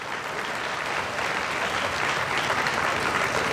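Audience applause filling a large event pandal hall during a religious consecration festival, a steady dense clapping from many hands held at even loudness throughout, with no talk over it.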